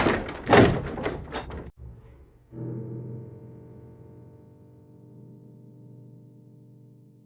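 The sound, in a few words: door closing, sound effect in audio drama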